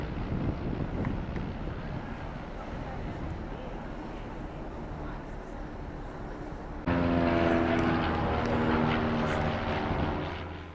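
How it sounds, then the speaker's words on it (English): Propeller planes fly low over a cruise ship departing Lisbon, a steady broad drone with wind rush that swells louder and brighter in the last few seconds as one passes close overhead. "we were treated to an exciting flyover by numerous propeller planes buzzing our"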